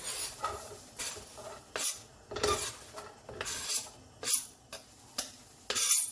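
Chopped onions tipped into a pan with a little oil for a football chili, giving a run of close clattering and scraping utensil-on-pan knocks in irregular bursts, with no talking.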